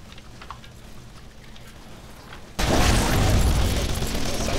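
In the video game Shoot Many Robots, a sudden loud blast of bridges being blown up cuts in midway and gives way to a sustained roaring rumble of explosions, after a quieter stretch of mechanical sounds.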